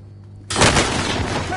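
A sudden close burst of gunfire in a first-person shooter game, starting sharply and trailing into a sustained noisy rumble.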